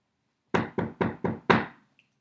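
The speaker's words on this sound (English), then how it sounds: "And then there was a knock on the door." Five firm knocks on a door, close and clear, in a steady, slightly irregular rhythm, with a short silence before and after and nothing else heard.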